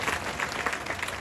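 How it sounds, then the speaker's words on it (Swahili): A church congregation claps for Jesus during a sermon, a brief, full round of dense applause from many hands at close, even loudness. "Mpigie Bwana Yesu makofi kama umesikia hapa"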